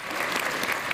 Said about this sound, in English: That was just sort of applause going on randomly.